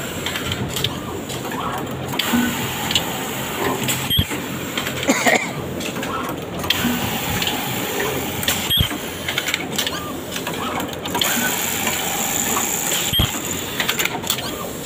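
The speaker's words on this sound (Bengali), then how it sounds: "প্রতি মিনিটে 5 থেকে 10টা বেশি এলাস্টিক কেটে সম্পূর্ণভাবে ওকে হয়ে নিচে পড়ছে।" A digital elastic cutting machine in a garment factory runs with busy mechanical clatter and repeated sharp clicks, set against constant loud factory noise.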